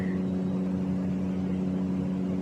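A Honda Shadow dream bike's engine idles with a steady, low, even hum that holds level throughout, close by with no voices.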